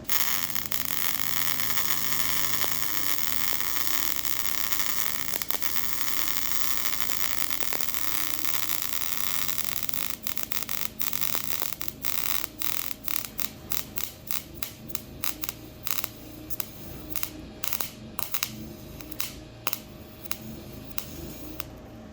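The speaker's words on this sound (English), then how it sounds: "I want you guys to listen and pay attention to see what the arc looks like" Flux core MIG welding arc running on sheet metal, a loud continuous crackling hiss that breaks into rapid irregular pops and sputters as the gun is pulled farther from the work.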